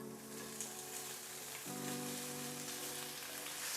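Sausages hit a pan of olive oil heated over medium heat, setting off a steady hiss and crackle that grows fuller and louder partway through and keeps going alone with no voices.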